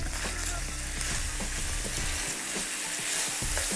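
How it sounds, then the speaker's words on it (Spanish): Vegetables and diced, peeled tomato sauté over fairly high heat in a paella pan, making a loud, dense, continuous sizzle close up with brief stirring scrapes. "Lo ponemos a fuego un poquito más vivo y vamos a saltear toda la verdura."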